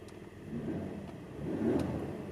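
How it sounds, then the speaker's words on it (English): A 1992 Mitsubishi Pajero 3.0L gasoline V6 idles and then revs up, a steady mid-low rumble that swells louder toward the end, close by with no talking. "I think this might be our first gas engine."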